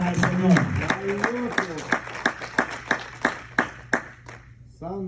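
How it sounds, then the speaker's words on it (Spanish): A church congregation claps in a steady, rhythmic beat, each clap sharp and distinct, while a voice speaks over the opening and the clapping fades toward the end. "Qué fuerte ese aplauso para el Señor."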